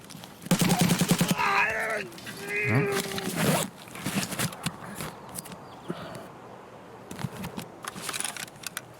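In a first-person shooter raid on Customs, several rapid volleys of gunfire crack out in clusters, mixed with footstep-like shuffles and other game effects, loud at first and then thinning into scattered shots.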